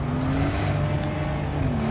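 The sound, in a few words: Mercedes-AMG SL65 accelerating from rolling start in first gear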